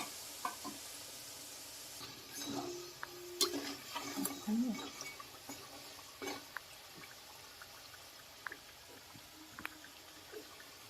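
Chini goja dough pieces frying slowly in oil over a low flame, a soft steady sizzle with faint stirring and a few clinks, quiet and close.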